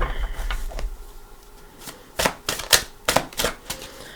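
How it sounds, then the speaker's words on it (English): Tarot cards are shuffled by hand up close, a few quick riffling bursts and soft slaps following a quieter rustling start. "let's shuffle for your cards"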